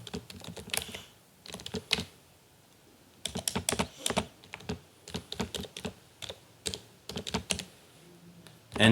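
Close keyboard typing while C code is written, with rapid clusters of key clicks broken by brief pauses and a longer gap near the start, steady and moderately loud, with no voices.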